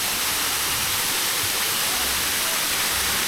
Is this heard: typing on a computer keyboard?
no